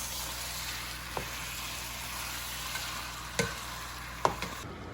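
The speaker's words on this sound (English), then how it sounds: "We're just gonna fry the meat for about 5 minutes." Marinated goat meat fries quietly in a pan, giving a steady soft sizzle with a few brief clicks and scrapes of stirring.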